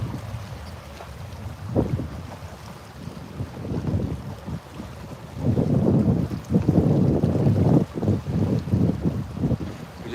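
Gusty wind buffets a fishing boat on the Tennessee River, a steady low rumble that swells louder in the second half with rapid rough pulses and no talking.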